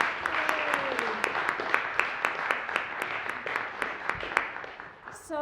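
Sustained applause from an audience at a piano recital, a dense wash of clapping with a few louder claps standing out.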